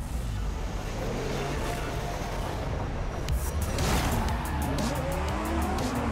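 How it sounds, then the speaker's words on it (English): A Lamborghini Huracan Performante races in a video game, its engine revving loud and close with rising and falling pitch as it shifts gears, and tire squeal and skidding come in through a corner. "Taking a Lamborghini Huracan Performante out."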